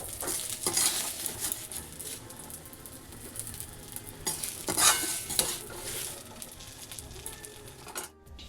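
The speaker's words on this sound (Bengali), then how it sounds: "আর এই কড়াইয়ের মধ্যে ডাল ফোড়ন দিয়ে দিব" Onion, dried red chilli, bay leaf and nigella seeds tempering in hot oil in a kadai for dal, a steady sizzle broken by scraping stirs and occasional metal clinks, fairly close, with no one talking.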